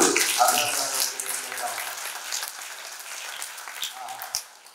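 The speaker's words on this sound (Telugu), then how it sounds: "మన విచారణ గురువులకు మనందరూ గట్టిగా చప్పట్లు కొడుతూ" A church crowd at the St. Joseph feast in Joseph Nagar, Telaprolu, claps loudly for the parish priests. The applause is a dense, steady patter that slowly thins and fades out near the end.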